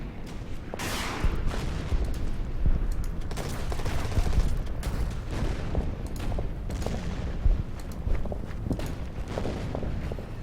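Sustained gunfire aimed at Japanese infantry in the strategy game Order of Battle: Pacific, set on Okinawa, as a dense, continuous crackle of rifle and machine-gun shots with scattered louder bursts running throughout, with no talking.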